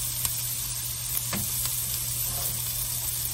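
Onion sizzles steadily in a hot pan for a chili, a dense close crackle with a brief spoon-scrape burst partway through and no voices.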